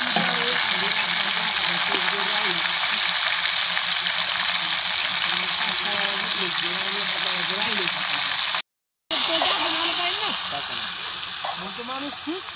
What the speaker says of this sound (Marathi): ह्या वांग्यामध्ये तेलात ही वांगी सोडले ते मस्तपैकी आईने.